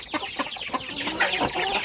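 Several chickens cluck busily up close while eating boiled potato mash with nettle and onion, short overlapping calls in a quick, uneven patter.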